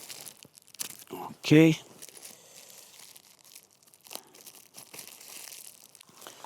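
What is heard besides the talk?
plastic bag of bolts being torn open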